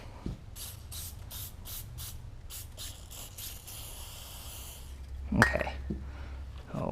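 WD-40 sprayed onto front sway bar parts during an upgrade on a Porsche 944 LS swap, a series of short, rapid hissing spray bursts up close followed by a longer hiss and a clunk.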